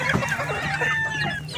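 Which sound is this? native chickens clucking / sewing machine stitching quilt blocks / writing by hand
native chickens clucking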